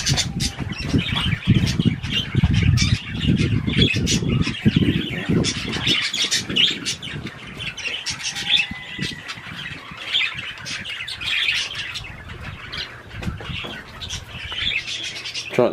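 Birds squawking and chirping at a zoo, including pigeons and doves, with dense overlapping calls, occasional wing flaps and steady outdoor background noise throughout.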